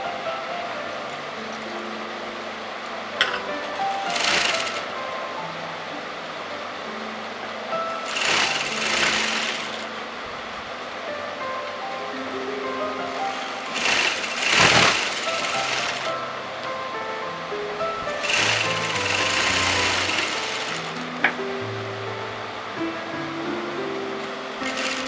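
A sewing machine runs in repeated bursts while top stitching a collar placket on fabric, its motor whirring steadily between short pauses, fairly close, with faint background noise and no voices.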